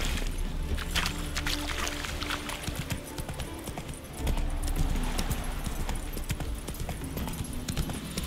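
Horse hooves clop steadily in The Witcher 3 as the horse crosses water, a rhythmic near clatter over sloshing and background game sounds.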